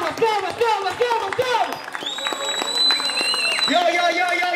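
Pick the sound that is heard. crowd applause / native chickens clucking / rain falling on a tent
crowd applause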